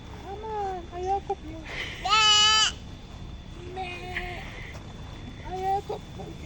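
A lamb bleats in a few wavering, nasal calls at a farm with sheep, goats and poultry nearby, heard at moderate distance amid a child's and adults' chatter.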